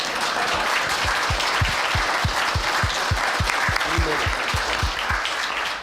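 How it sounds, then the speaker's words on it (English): A small audience at a city council meeting applauds, a steady patter of many hands clapping at moderate distance, with a faint voice briefly underneath. "go ahead and clap."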